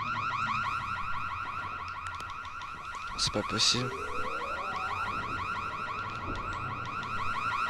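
A car alarm in the video game Dying Light blares steadily with a rapid repeating electronic pattern throughout, loud and constant, while someone speaks briefly over it.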